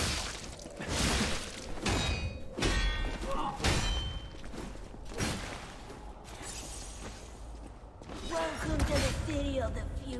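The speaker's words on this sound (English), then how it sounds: "Now I broke the weapon" Heavy blows and thuds from a Lies of P boss fight against the Robber Weasel, ending in a sharp breaking crash as a weapon gives way, with someone talking over the combat throughout.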